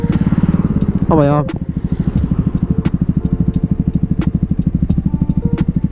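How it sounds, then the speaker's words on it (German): A KTM Duke 125 motorcycle engine at night idles with a loud, steady rapid thumping pulse close by, with a short rev-like rise near the start and a brief voice over it. "Und dann werdet ihr einfach nur noch den Sound hören von der Duke."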